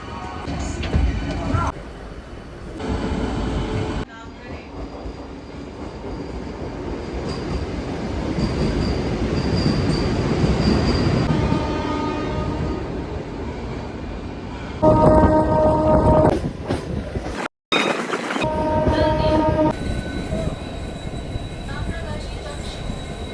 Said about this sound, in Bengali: আমার ট্রেন ছেড়ে দিল হাওড়া জংশন রেলওয়ে স্টেশন থেকে